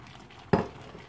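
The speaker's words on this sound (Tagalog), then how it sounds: "ihalo lang natin siya" A single utensil scrape and clink as chili is stirred into chicken and pork igado in a pan, one short burst over a low steady background hum.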